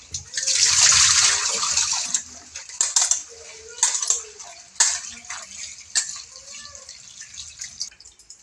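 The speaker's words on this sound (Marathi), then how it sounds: "ही भाजी ना एकदम स्वच्छ पाण्याने दोन तीन पाण्याने धुवून घ्यायची" Wild leafy greens rinsed by hand in clean water, a burst of splashing and pouring followed by irregular drips and sloshes, close by, with a voice talking over parts of it.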